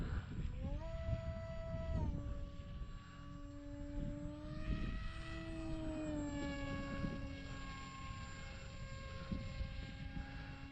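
A HobbyKing AXN Floater RC model plane drones overhead with a steady, whining electric motor pitch that rises and falls as it flies, loud and continuous throughout.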